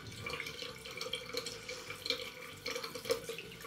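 Warm tap water runs and splashes softly at a bathroom sink as a mud face mask is rinsed off, faint and close with small uneven drips.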